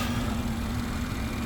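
A 2022 BMW 740i idles with a steady low hum and a constant drone, even and moderately quiet, with no voices over it.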